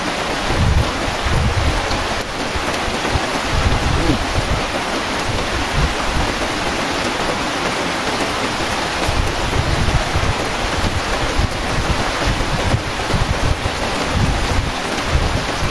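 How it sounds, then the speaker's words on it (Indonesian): Heavy rain pours down outdoors in a rural village, a dense continuous hiss and roar that stays loud and even the whole time with no talk. "Tuh hujan guys."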